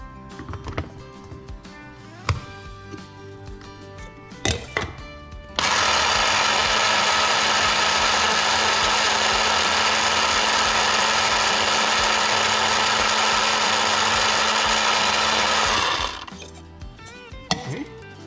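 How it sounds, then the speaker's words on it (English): An electric grinder whirs loudly and steadily for about ten seconds as it grinds dried ghost and scorpion peppers into powder, bracketed by a few sharp handling knocks before it starts and after it stops. "I'm gonna grind it a little bit more."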